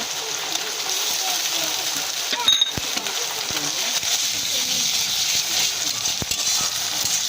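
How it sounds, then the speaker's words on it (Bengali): Ginger-garlic paste fries with browned onions in oil in a home kitchen, a continuous sizzle marked by sharp clinks and scrapes from stirring, with faint background noise. "এবার আমরা আদা রসুন বাটাটা দিয়ে দেব"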